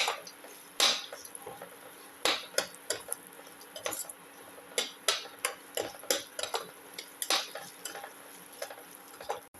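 Ginger beef and shallots are sautéed in a pan, heard as a run of crisp spatula taps and scrapes at an uneven rhythm over a faint background hiss, close and fairly quiet.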